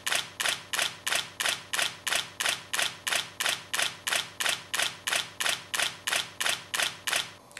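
A Nikon D300s shutter in continuous shooting at 7 frames per second rattles off a rapid, even burst of about two dozen close mechanical clicks, loud and alone.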